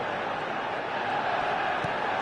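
Roaring football match crowd on match day, a loud, steady wash of massed voices and chanting filling the stadium without a break.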